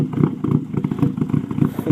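A vehicle engine treated with Sea Foam runs close by in a brief stretch, with a rough, throbbing, uneven low rumble and clattery pulses, loud and steady with no voices.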